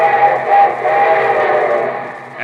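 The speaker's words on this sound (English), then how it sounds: "And here comes our summer show train" A steam train whistle sounds loudly and steadily over the rolling rumble of a moving train, a sustained radio sound effect with no voices.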